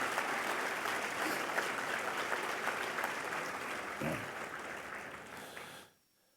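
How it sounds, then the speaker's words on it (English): A dinner crowd at a fundraising event for troops gives a sustained round of applause, a dense wash of clapping that holds steady for several seconds before stopping abruptly. "Round of applause on that one"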